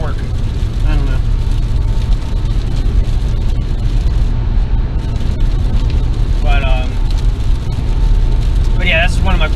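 Steady rain on a car driving along the highway, a continuous broadband hiss blended with low road and engine rumble, with someone talking over it throughout.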